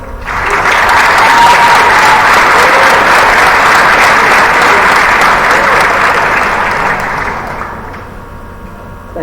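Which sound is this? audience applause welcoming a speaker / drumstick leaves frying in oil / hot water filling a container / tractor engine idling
audience applause welcoming a speaker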